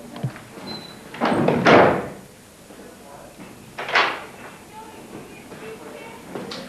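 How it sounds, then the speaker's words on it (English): An interior door closing during a metal band interview, giving a couple of dull thuds and knocks, one around the middle and another a few seconds later, amid background room noise and talk. "Shut that door, man."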